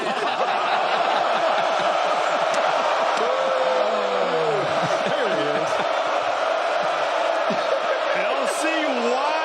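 Boston College football crowd, a dense, continuous stadium roar that stays loud throughout, with a person talking over it.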